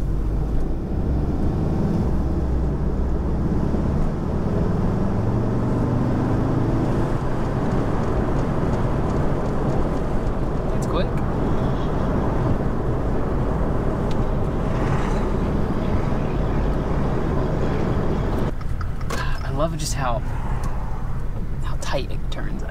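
A Volkswagen Beetle drives along a main road, a loud steady low engine and road rumble filling the whole stretch, with a voice talking over it and a brief rise in higher-pitched noise near the end.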